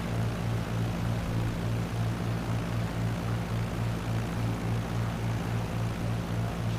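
A propeller aircraft engine drones steadily in Microsoft Flight Simulator, a constant, even, rhythmically pulsing hum with no talk over it.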